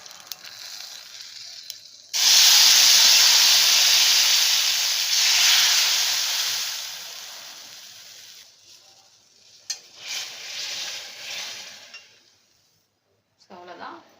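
Hot mustard and cumin tempering poured into rasam: a sudden loud, bright hissing sizzle bursts in and slowly dies down over several seconds, followed by a few stirring clinks and a quieter tail.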